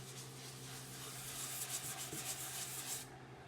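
A sander works over wood, a close, steady rasping scrub under a low hum that grows briefly more textured and then tapers off near the end.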